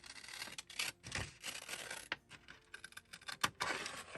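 Scissors cut around paper for a long envelope double pocket, giving quiet, uneven snipping and rustling close by with brief gaps between cuts.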